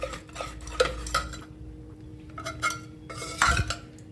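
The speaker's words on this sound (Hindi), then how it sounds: "अब इसे हम साग में अच्छी तरह से मिला लेंगे।" A spoon scraping and clinking in a pan while maize flour is stirred into mustard greens saag, irregular close knocks and scrapes over a low background hum.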